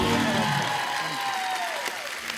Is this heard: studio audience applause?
yes